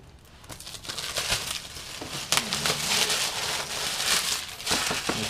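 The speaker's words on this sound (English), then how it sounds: "And so we just cut along here and along there, get rid of the plastic." Plastic packaging around a ceramic chef knife is cut away and pulled off, with close crinkling, crackling and snapping that grow louder partway through.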